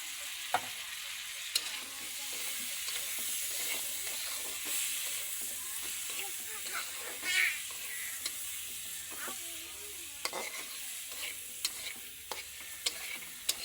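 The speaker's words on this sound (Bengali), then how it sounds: "ডিম দিয়ে দেখো ভাজা ভাজা করে নিচ্ছি" Egg frying in a pan, with tomato about to be added, sizzles steadily and quietly while a utensil stirs and scrapes with scattered sharp clicks.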